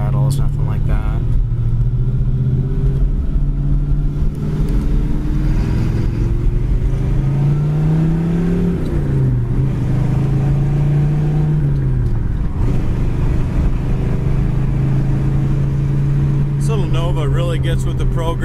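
A 1970 Chevy Nova's stock 350 V8 with a two-barrel carburetor idles and revs with a deep, steady low rumble, pitch rising and falling as it drives, heard from inside the car.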